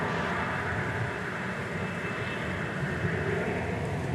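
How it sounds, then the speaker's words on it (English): A Delta Airbus A319 departs for Minneapolis–St. Paul at DFW Airport, heard as a steady, moderately distant jet roar with no voices over it. "You're about to see Delta Flight 2971 checking out to Minneapolis, St. Paul on Airbus A319"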